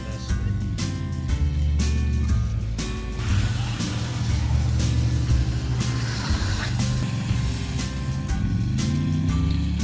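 A Chrysler LeBaron drives along with a steady low engine drone and road rumble inside the cabin, mixed with odd rattles and irregular mechanical noises throughout.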